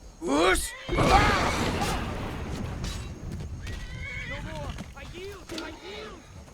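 A horse in Skyrim gives a loud, shrill whinny, followed by rough thuds and scuffling, then further neighs and snorts as someone talks over it.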